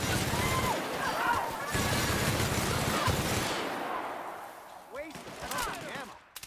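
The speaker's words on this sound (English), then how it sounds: "Quick, everybody. Just start shooting." Gunfire rattles in The Outer Worlds video game, with dense rapid bursts and crashes for several seconds that thin out into a few scattered shots and impacts.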